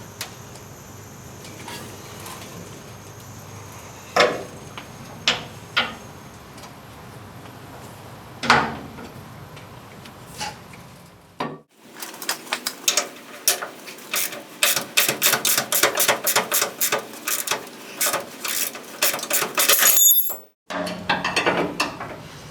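A wrench and breaker bar work a stiff bolt out of a spring hanger on a C10 truck's rear suspension, with scattered clanks early, then a long run of rapid ratcheting clicks, close and loud.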